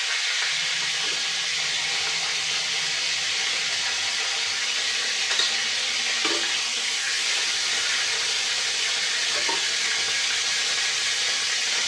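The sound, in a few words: katla fish frying in oil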